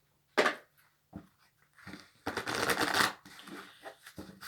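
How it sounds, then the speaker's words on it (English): Tarot cards being shuffled by hand in short bursts, with a sharp riffle, a few softer flicks and then a longer run of dense, rustling shuffling, recorded close in a quiet room without talking. "I'm going to quickly shuffle most of them"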